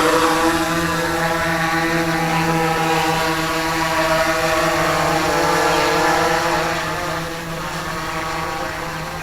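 A DJI Inspire drone taking off and flying, a steady loud propeller whine with layered tones that shift slightly in pitch as it climbs, easing a little toward the end.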